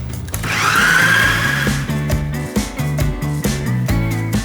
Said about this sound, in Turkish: Buradaki bütün suyu ve meyveyi bir robottan geçireceğim.